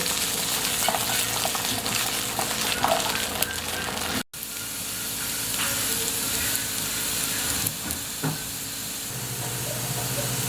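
Kalabasa (squash) pieces frying in oil in a pan, a steady loud sizzle with stirring scrapes, one brief gap partway through, then continuous frying to the end.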